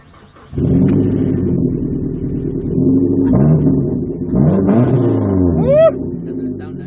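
A five-speed manual Mazda 3 engine revs up close and loud, climbing in pitch through a couple of rising surges, with a sharp whining sweep near the end before settling back.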